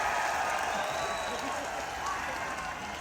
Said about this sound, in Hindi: एक बार तालियों के साथ इनका स्वागत कर